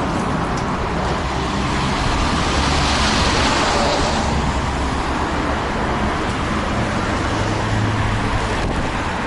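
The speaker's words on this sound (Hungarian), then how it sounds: "Még megvárjuk itt ezeket a kamionokat" Loud, continuous roar of heavy trucks and traffic passing on a road near Auckland airport, a dense broadband wash swelling slightly in the middle with no voices.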